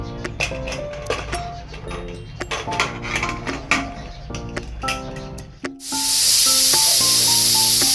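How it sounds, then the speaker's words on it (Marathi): A pressure cooker holding drumsticks (moringa pods) for soup releases steam: a loud, sustained rushing hiss that bursts in near the end after a stretch of tonal background sound. "सगळं मी कुकरमध्ये आता छानपैकी तीन शिट्ट्यांमध्ये शिजवून घेणार आहे"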